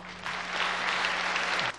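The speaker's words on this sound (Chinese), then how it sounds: "话一说完，台下掌声如雷响起。" Audience applause at a 2005 Li Ao lecture at Peking University bursts out and holds steady and loud for about a second and a half, then cuts off abruptly.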